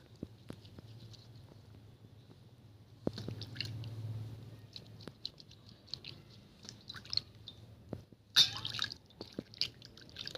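Charcoal face scrub worked over wet skin with a little water, giving soft squishy rubbing and faint dripping, quiet and close, with brief louder wet bursts partway through.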